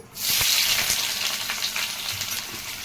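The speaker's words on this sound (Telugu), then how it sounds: "ఆయిల్ వేడెక్కిందండి ఒక స్పూన్ జీలకర్ర సన్నగా తరిగిన ఉల్లిపాయలు" Loud, steady sizzle as cumin seeds and finely chopped onions hit hot oil in a pan for a spicy chicken fry, hissing up sharply at the start and then settling into continuous frying with faint stirring, with no voices.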